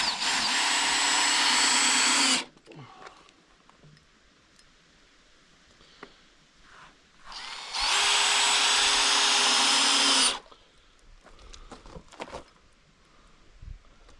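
Power drill driving screws into floor strips, with two loud, close bursts of high whirring, each lasting a few seconds, separated by quieter handling noises and small clicks.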